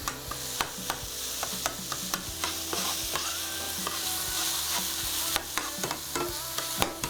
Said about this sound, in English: moving over to the sausage. As that starts to brown up nicely.